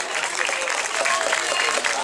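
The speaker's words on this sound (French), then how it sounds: "que je vous demande encore d'applaudir avec leurs armes" An audience applauds at a 2019 medieval festival in Tourrettes-Levens, France, with dense, sustained clapping from a crowd that stays fairly loud and even from start to finish.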